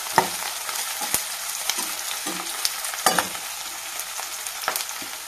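Sliced onions and coarsely crushed garlic cloves fry in a pan for thotakura pappu, giving a soft continuous sizzle punctuated by sharp spoon taps and scrapes as the mix is stirred, no voices.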